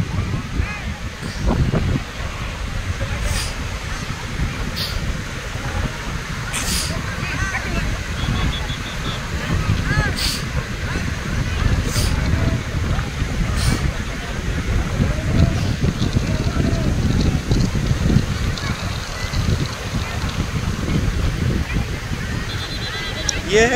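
Arabian Sea surf at Colva beach in Goa, a steady broad rush of breaking waves with wind buffeting the microphone, continuous and fairly loud for the whole stretch.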